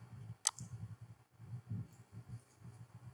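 A computer mouse is clicked once, a single crisp, close tick early on, followed by quiet with only faint low background rumble and no speech.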